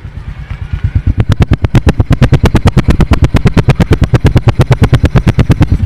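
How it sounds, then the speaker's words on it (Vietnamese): A 2009 Honda Future Neo Fi motorcycle engine and exhaust idle up close, settling into a fast, even, loud popping pulse that holds steady after a brief softer start. "Bây giờ mình sẽ cho anh chị nghe cái tiếng bô tiếng máy ha."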